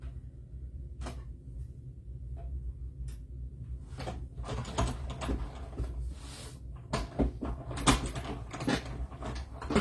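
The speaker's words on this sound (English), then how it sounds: "Get my cut and emboss machine all set up from embossing and switch it over to cutting" A cut and emboss machine cutting paper gives scattered clicks and clunks, sparse at first and then denser and louder, with a low mechanical rumble running underneath.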